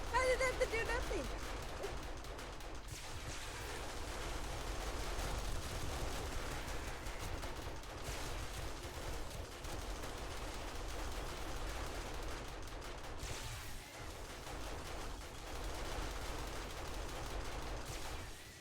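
Turrets fire continuous bursts of gunfire in a tower-defense video game with blade traps, a dense, steady stream of rapid shots running throughout.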